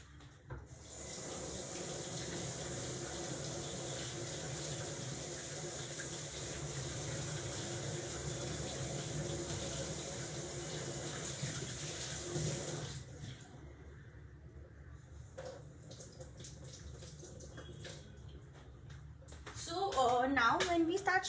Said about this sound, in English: Now I'll again quickly wash my hands and show you all what to do next.